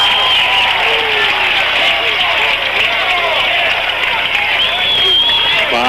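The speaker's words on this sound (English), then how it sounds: "A lot of people on their feet here cheering every pitch" A baseball crowd on its feet cheers a pitch in a game between Chiefs and Dare County, a steady wash of cheering and crowd noise heard at a distance under ongoing talk.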